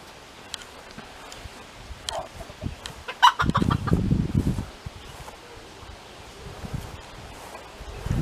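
Hens cluck softly and intermittently amid rustling and scuffling noises, with a burst of low rumbling movement midway.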